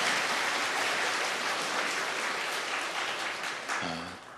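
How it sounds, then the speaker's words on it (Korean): A church congregation at a New Year's Eve service applauds the choir, dense sustained clapping filling the room, easing slightly before a brief voice at the end. "우리 할렐루야 찬양대에게는 감사의 박수를 한번 해드리겠습니다"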